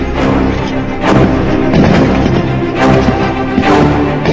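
Heavy booms and blasts repeat roughly every second amid rolling gunfire in fighting between the Taliban and resistance forces in Panjshir, Afghanistan, loud and reverberant.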